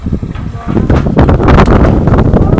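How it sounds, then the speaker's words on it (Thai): Strong outdoor wind roars and buffets the microphone in continuous loud gusts at a village merit-making alms-giving gathering, drowning out other sounds. "โอ้ยลมครับ"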